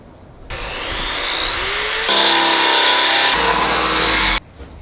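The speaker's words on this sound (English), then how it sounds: "we're gonna now drill a small hole and drill a big hole." A power drill bores holes for a custom bash bar, running loud and close with a whine that rises as it spins up, then steadies and changes pitch before cutting off abruptly.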